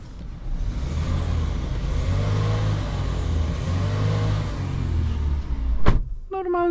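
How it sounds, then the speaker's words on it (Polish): A 2024 MG HS with a 1.5-litre turbocharged four-cylinder petrol engine revs in a smooth, moderately loud rise and fall twice, heard from inside the car, then a sharp click and a short electronic chime sound at the end. "Normalny dźwięk, normalna czterocylindrowa uturbiona benzynka"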